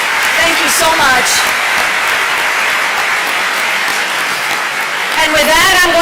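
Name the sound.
applause at a health care reform anniversary event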